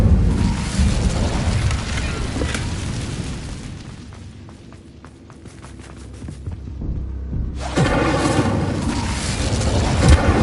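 A fire spell cast in a fantasy wizard video game: loud rumbling bursts of flame at the start, a quieter crackling stretch with sharp ticks in the middle, then another loud roaring blast at the end.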